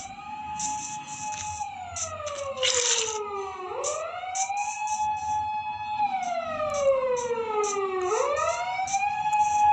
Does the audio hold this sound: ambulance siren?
yes